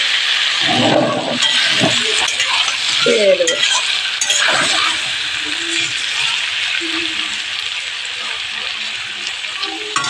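Tilapia fish pieces sizzle in hot oil in a curry pan, starting with loud splashing and stirring clatter, then settling into a steady frying hiss as someone speaks briefly over it.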